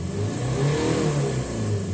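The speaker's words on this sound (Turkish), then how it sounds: "Gazı veriyorum." A car engine revs steadily as the accelerator pedal is pressed during a mass airflow sensor test, a close, continuous mid-pitched rising drone with no talking.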